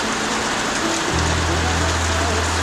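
Steady rain hisses down on surfaces in a dense, even patter, and a low hum rises partway through.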